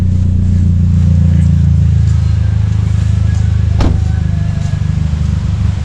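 A ten-year-old Mazdaspeed3's engine and exhaust drone steadily up close, a deep low rumble holding through with a sharp knock midway.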